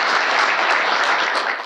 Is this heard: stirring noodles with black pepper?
no